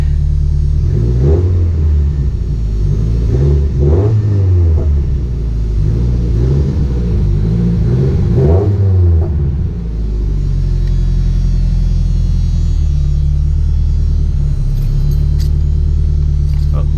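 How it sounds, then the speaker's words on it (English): A car with its check engine light on is given a few gentle, rumbling revs that rise and fall close by, then settles into a steady low idle. "We'll just give it some baby revs."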